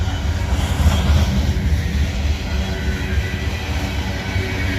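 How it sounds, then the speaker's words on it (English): An SCWS coal train rolls past, giving a loud, steady low rumble of wheels and cars that holds evenly without a break. "SCWS coal train."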